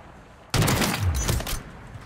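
A short, loud burst of rapid gunfire from a weapon in the video game Warzone, breaking in suddenly after a moment of quiet.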